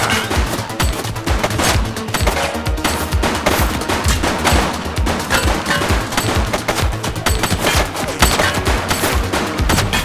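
Sustained automatic fire from The Precinct, an 80s police video game: loud, rapid machine-gun bursts and gunshots pound steadily throughout with barely a pause.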